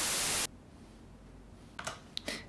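Synthesized white noise from a Gradrigo noise generator, a loud flat hiss lasting about half a second that then cuts off, leaving faint background and a few soft clicks.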